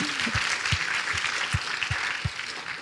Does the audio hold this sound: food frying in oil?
no